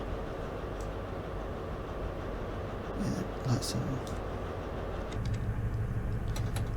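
A Class 142 Pacer-style train in Train Sim Classic on the Sunderland to London King's Cross route, heard as a steady low rumble with rail clatter that grows heavier near the end, while a person speaks briefly over it.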